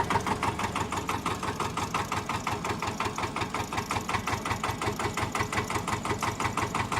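A Porsche Diesel Standard two-cylinder tractor engine idles slowly and steadily, with an even, close-up chugging pulse that repeats several times per second and no talking over it.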